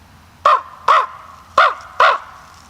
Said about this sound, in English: And then he saw a crow fly over.